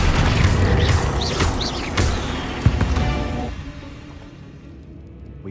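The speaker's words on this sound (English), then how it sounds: "Accio!" An Accio spell is cast in Hogwarts Legacy, a magical whoosh and crashing thud with debris, loud at first, then a sharp impact before fading to a quiet tail.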